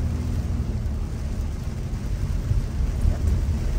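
Rain and thunder on an evening in Orlando, Florida: a dense, loud, continuous wash of rainfall with low rolling rumble underneath, steady throughout and without voices.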